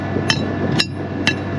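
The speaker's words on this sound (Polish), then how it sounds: "Młotkiem muszę." Three sharp, ringing hammer blows on the metal conveyor of a potato harvester during a field harvest, evenly spaced about half a second apart, close and loud over a low steady background hum.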